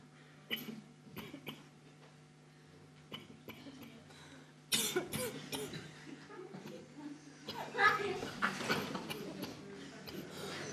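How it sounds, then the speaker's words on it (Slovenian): Coughing from someone at a 2015 Ormož town event, a few scattered bursts at first, then louder, denser fits, with chatter and background noise around them. "Kašljam!"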